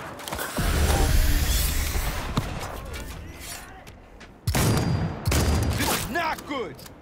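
Shotgun gunfire in Cyberpunk 2077, heavy blasts and clattering mechanical noise in chaotic bursts with a pause midway, loud and close, mixed with shouting voices.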